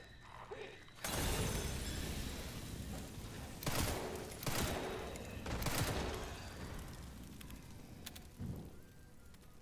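Gunfire in the video game Resident Evil Requiem: after a quiet start, several sharp, loud shots ring out, separated by brief pauses and followed by the clatter of game mechanisms.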